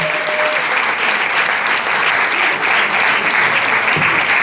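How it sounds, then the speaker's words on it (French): Audience in a conference hall applauding to greet the president of the Senate, a loud, sustained and evenly dense roar of clapping lasting several seconds without a break. "pouvons-nous saluer de vos applaudissements la présence de l'honorable président du Sénat"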